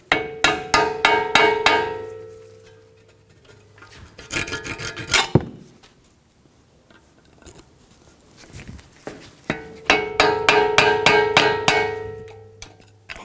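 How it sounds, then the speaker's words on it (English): Rapid metallic tapping comes in dense bursts as a hammer strikes a flat-blade screwdriver to remove a lower ball joint ring on a 2013-2017 Honda Accord, with quieter pauses between the bursts. "Using a flat blade screwdriver and a hammer, we're going to remove the inner ring."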